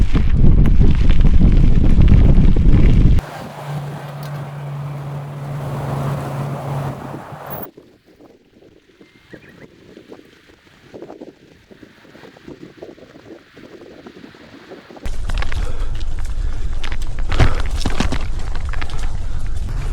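Strong coastal wind buffets a microphone during a bikepacking ride around Japan, loud roaring gusts that drop away to a quieter stretch before the blustering returns at full strength.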